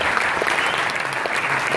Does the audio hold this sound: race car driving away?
no